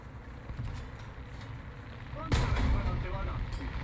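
A single heavy artillery blast booms in War Thunder over a rumbling engine drone, loud and close, with a long rolling tail. A faint earlier thud comes before it.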